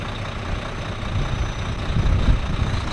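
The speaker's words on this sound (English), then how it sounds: "I'll put it in the forward gear and try to pull the trailer" A truck tractor in forward gear tugs against its coupled trailer during a fifth-wheel lock test, its heavy diesel engine a deep, steady low rumble that swells louder toward the end, with no voices.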